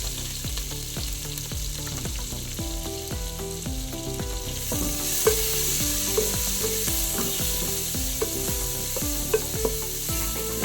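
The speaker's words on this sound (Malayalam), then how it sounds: "അതിലേക്ക് ഒരു ചെറിയൊരു സവാള ഇത് നന്നായിട്ട് വഴറ്റിയെടുക്കാം" A small onion sautéing in a pan for Kerala-style tomato rice, a steady close sizzle carried under regular rhythmic background music with no voices.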